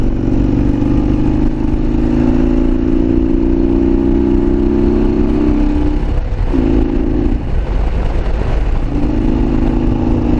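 A Harley-Davidson Road King motorcycle cruises at about 70 in fourth or fifth gear. Its engine drone is loud and steady, briefly dipping and changing pitch as if shifting, with heavy wind rush throughout.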